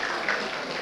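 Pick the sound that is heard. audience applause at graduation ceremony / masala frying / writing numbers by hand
audience applause at graduation ceremony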